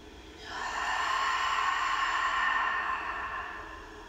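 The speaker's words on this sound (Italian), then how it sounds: "Prendiamo tre lunghi respiri profondi dal naso ed espiriamo dalla bocca." One long deep breath in through the nose and out through the mouth during a yoga session, a soft airy rush that swells, holds steady, then fades, close and alone.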